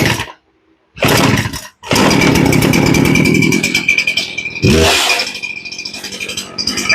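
Poulan Pro chainsaw with a hard-starting fault cranks, fires and settles into a loud, close two-stroke buzz, with short pull-start bursts and brief pauses before the steady running.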